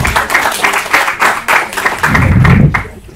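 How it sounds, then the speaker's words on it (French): Applause from a conference audience at a think-tank panel on sport and migrant integration, with loud, uneven claps close by and a louder burst near the end. "on peut les applaudir"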